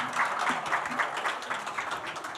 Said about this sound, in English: A warm applause for Dr.